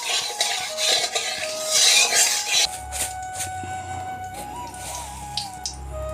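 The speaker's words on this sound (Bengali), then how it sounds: "আমি আলু দিয়ে আর ঝিঙার যে ভেতরের খোসাগুলো এটি দিয়ে একটি পুর বানাবো।" A spoon clatters and scrapes in a bowl while a potato and ridge gourd peel filling is mixed. Busy metallic clinks come first, then the clatter eases to sparse taps.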